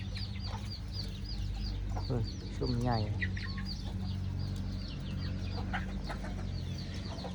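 Chickens cluck steadily on a Thai farm, with repeated short calls over a constant low hum and a brief louder squawk, while someone speaks.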